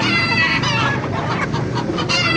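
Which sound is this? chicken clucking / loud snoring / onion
chicken clucking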